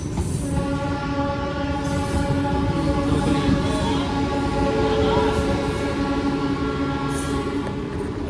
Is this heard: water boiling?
no